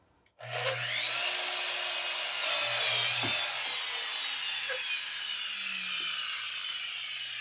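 A thirty-year-old hand saw squares off the wooden ends for a cigar box guitar, its close, loud rasping strokes starting suddenly and continuing in a steady run of rough back-and-forth cuts.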